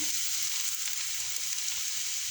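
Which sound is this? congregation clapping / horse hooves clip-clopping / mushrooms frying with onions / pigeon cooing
mushrooms frying with onions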